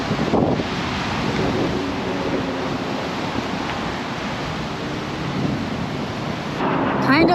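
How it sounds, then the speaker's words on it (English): Strong wind gusting at an RV park in Yuma, Arizona, a continuous loud roaring rumble buffeting the microphone throughout, with no talking. "it is crazy windy"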